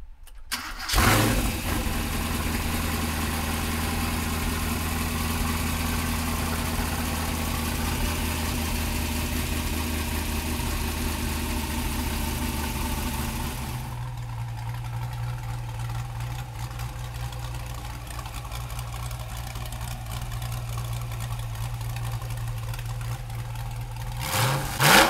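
LS6 V8 in a 2010 Factory 5 GTM cranks and fires with a sharp catch, then settles into a loud, steady high idle that drops to a lower, smoother idle partway through, rising briefly again at the end.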